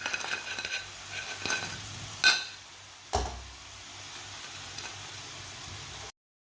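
Potato chips fry in hot oil with a steady, even sizzle, interrupted by a couple of sharp scraping stirs and clinks of a utensil against the pan, close and continuous until it cuts off.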